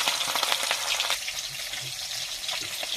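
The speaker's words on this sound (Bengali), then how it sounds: "এই যে মাছ ভাজা হচ্ছে এখন" Fish frying in hot oil gives a steady, close, bright sizzle that runs unbroken for the whole stretch, with light crackling on top and no voices.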